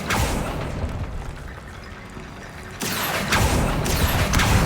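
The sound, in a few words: Bombarda explosion spell cast in the video game Hogwarts Legacy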